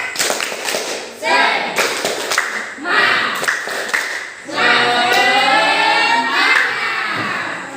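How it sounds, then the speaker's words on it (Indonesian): A classroom group gives a rhythmic spirit clap, patterned hand claps and taps mixed with children's voices and shouts, loud and close across the clip. "kita berikan dulu tepuk semangat untuk kelompok 1"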